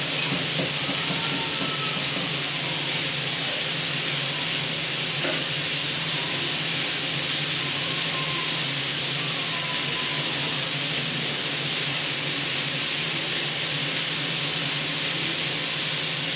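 Pasta cooking in a pot of hot water on a home stove gives a steady, even hiss of steam and simmering bubbles that holds at a constant level throughout, with a low hum underneath and no voices.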